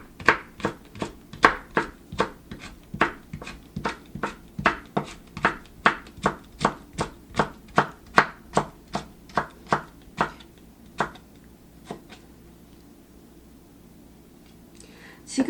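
A knife cuts peeled cucumber into 0.2 cm julienne strips on a board, a fast even run of about thirty crisp chops that slows and stops near the end.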